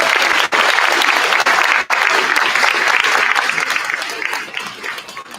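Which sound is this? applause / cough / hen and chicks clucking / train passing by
applause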